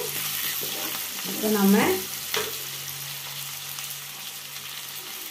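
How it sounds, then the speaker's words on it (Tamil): Ingredients sauté in a pan for a Tamil-style country chicken curry, giving a steady sizzle with stirring noises and a brief louder scrape near the middle; a few words of speech come over it. "பாருங்க நல்லா வதங்கிடுச்சு."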